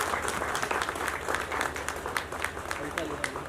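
An audience at a music video launch event applauds loudly to welcome a guest, a dense run of claps with sharper individual hits, with a voice speaking over it.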